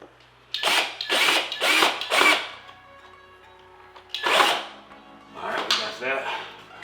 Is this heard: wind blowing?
no